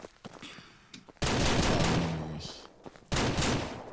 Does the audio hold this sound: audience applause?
no